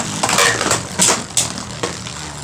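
Beyblade spinning tops, Bushin Ashura against Prime Apocalypse, are ripped from launchers and crash together in a stadium, giving a burst of sharp scraping clashes and several loud metallic impacts close by.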